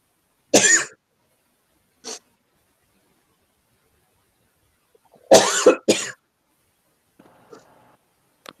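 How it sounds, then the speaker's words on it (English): A few sharp coughs close to the microphone, two isolated ones then a quick pair, with quiet gaps and faint rustling between. "Probably have a little cough."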